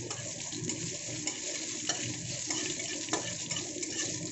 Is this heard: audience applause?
no